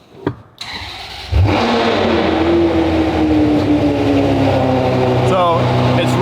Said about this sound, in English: The engine has to start